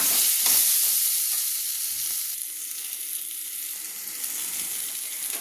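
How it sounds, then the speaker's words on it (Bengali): Potato pieces seasoned with a little salt and turmeric fry in hot oil, a steady close sizzle with faint stirring that continues throughout without speech. "আলুটাকে ভেজে নিচ্ছি।"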